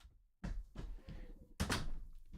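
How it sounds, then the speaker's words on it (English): A door slams hard in a home with kids around, two heavy thuds about a second apart, close and loud, with low household noise between them. "thank you for slamming the door"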